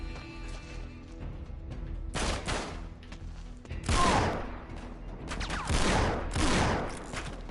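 Shotgun blasts in the video game Uncharted 3, several loud bursts over roughly the second half, mixed with game ambience and no talk.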